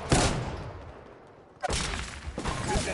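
Video game gunfire arriving in two loud bursts, one at the start and one that kicks in sharply halfway through, separated by a brief quieter lull.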